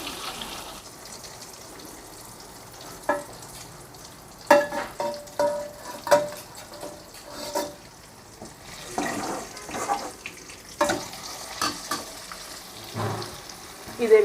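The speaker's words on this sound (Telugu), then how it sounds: "జాగ్రత్తగా ఈ విధంగా అన్నీ కూడా ఫ్రై చేసుకోవాలి ఒక్కొక్కటిగా." Fish pieces fry in a pan of hot oil with a soft, continuous sizzle. Scraping and stirring clatters and a few sharper clinks from the pan sound up close.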